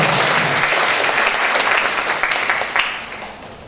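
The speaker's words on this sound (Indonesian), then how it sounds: "Baik, kita berikan aplaus." Audience applause at a constitutional debate final, steady broad clapping from a crowd filling the whole stretch without a break, close and fairly loud.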